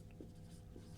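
Brief scratching of pen on paper during a human reproduction lesson, a couple of short strokes close by and fairly quiet over a low background hum.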